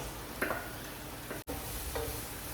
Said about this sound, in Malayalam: ഇതിലേക്ക് നമ്മളിത് സവാള ചേർക്കാൻ പോകാം